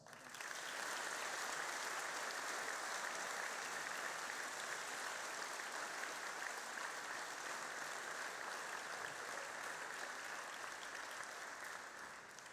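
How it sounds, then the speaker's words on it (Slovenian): Sustained audience applause fills a school hall for a graduation-style awards ceremony, steady dense clapping holding loud and even for the whole stretch before tapering slightly at the end. "In prav vsi tukaj in zdaj si zaslužijo pošten aplavz."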